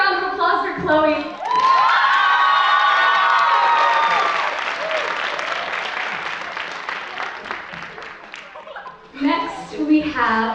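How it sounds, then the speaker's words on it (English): A choir concert audience breaks into applause with whoops and cheers, loud and full at first and slowly thinning out. A speaker talks briefly at the start and again near the end. "another round of applause for Chloe"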